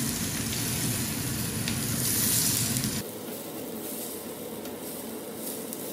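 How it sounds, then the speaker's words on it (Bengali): Leafy greens sizzle and fry in a pan while being stirred, a dense hissing crackle that is loud at first, then drops abruptly to a softer, steady sizzle partway through, with no talk. "শাক দিলাইছি এখন ভালো করে নাড়াচাড়া করিলাই"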